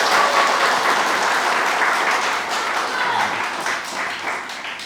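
Loud, sustained applause from a church congregation, many hands clapping together in a steady wash that fades slightly toward the end.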